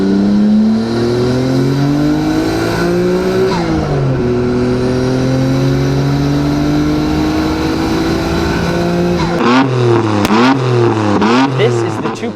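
A 2.6-liter Nissan GT-R RB26 DETT twin-turbo inline-six fitted in a four-door sedan revs steadily and loudly with a rising, sustained drone, then breaks into sharp, rapid blips and revs near the end.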